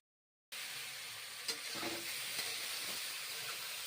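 Mushrooms coated in salt and turmeric fry in a pan with a steady, fairly quiet sizzle and hiss throughout, with a few faint stirring clicks and no talking.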